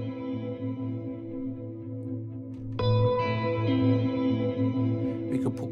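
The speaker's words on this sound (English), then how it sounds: "that's a convolution reverb, and we could choose a different one like this glass." Cinematic electric guitar from the Opacity II Kontakt instrument played through a glass convolution reverb, sustained shimmering tones that swell into a brighter, louder chord halfway through, with echoing tails and no voices.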